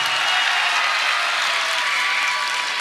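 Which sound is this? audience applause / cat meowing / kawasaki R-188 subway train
audience applause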